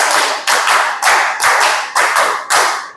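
Students in a classroom clap in a steady counted beat, about six loud, evenly spaced bursts of many hands striking together, close by and with no talking.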